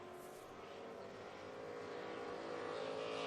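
Eight-cylinder Thunderstock dirt track race cars roar together in a sustained, loud engine drone with a steady rising pitch, heard from trackside as the pack races on without any voices over it.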